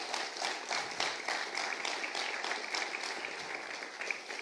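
A church congregation applauding, continuous crowded clapping that holds steady and moderately loud throughout, with no voices over it.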